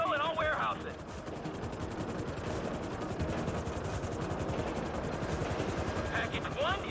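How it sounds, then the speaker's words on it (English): Two helicopters in GTA V approach during a heist, their rotors giving a steady, fast chopping thrum close by, with a voice speaking over the start and end. "There's two choppers coming toward my train."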